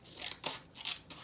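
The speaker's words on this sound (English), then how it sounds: "just cut out the paper bag" Scissors cutting a paper bag, several quick crisp snips in a short close burst, with no talking.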